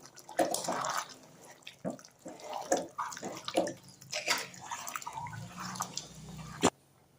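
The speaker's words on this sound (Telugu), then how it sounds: "అసలు నేను వాటర్ అనేది వేయలేదు ఇప్పుడే వేస్తున్నామండి" Water is poured into a pot of cooking gongura chicken curry, splashing and trickling quietly in uneven bursts before a final clunk.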